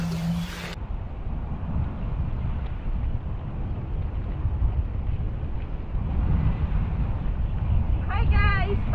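Strong wind at Luk Keng Bay on Hong Kong Island buffets the microphone in a constant low roar, with a brief voice at the start and near the end.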